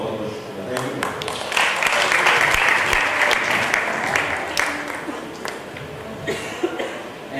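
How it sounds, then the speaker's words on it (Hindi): A live audience at a panel event breaks into loud, sustained applause that swells and then tapers, with a few coughs and some talk underneath. "जोरदार तालियां दोस्तों।"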